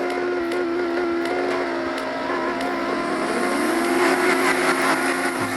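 A car exhaust in the racing game Prodigy Drift drones steadily at mid pitch, its tone rising slightly as it revs, loud and continuous with no talking.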